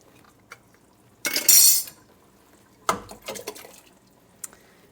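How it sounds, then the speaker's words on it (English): Home-canned tomatoes tipped from a jar into a pot of chili: a brief wet splash and slosh, then a second pouring burst with clinks of glass against the pot, close and fairly loud, no talk. "So these are home canned tomatoes,"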